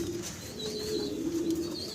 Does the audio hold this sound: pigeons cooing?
yes